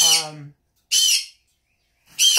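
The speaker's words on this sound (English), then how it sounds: "oh my God, I cannot do this anymore with that bird" A pet bird indoors lets out three loud, harsh squawks, each about half a second long, separated by silent gaps, close to the microphone.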